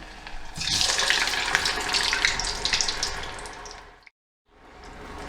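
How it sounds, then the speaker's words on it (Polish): Homemade potato fries frying in hot oil give a loud, steady broadband sizzle and hiss that runs for about four seconds, cuts out abruptly to silence, then rises again. "frytki się zaczynają smażać i wytrąca się woda z ziemniaków"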